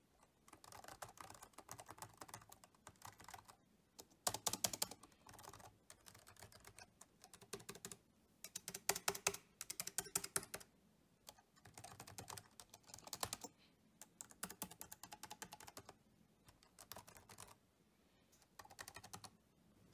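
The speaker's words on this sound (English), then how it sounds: "Here's a video where you can hear the sound of the keys." Typing on a Lenovo ThinkPad T440s laptop keyboard, close and crisp key clicks in quick bursts separated by brief pauses, steady rhythm throughout with no talking.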